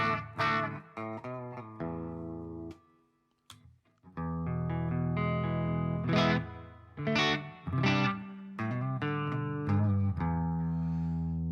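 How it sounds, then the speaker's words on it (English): An electric guitar plays chords and short riffs through an effects pedal, notes ringing with a light reverb that fades quickly, with a brief pause midway. "So it's a really nice reverb. Doesn't trail."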